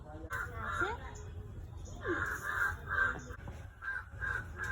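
Crows caw repeatedly in a village in Madhubani, a run of harsh calls with voices talking over them.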